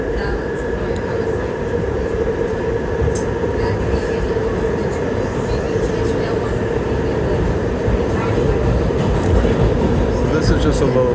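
NYC subway 6 train running express through stations near 23rd Street: a steady loud rumble and roar of wheels on track throughout, with faint squeals and clanks over the continuous drone and no talking.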